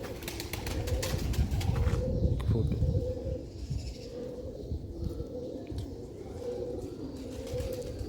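Sialkoti pigeons coo close by in a steady, repeating series of soft, throaty calls that continue through the whole stretch, with no voices.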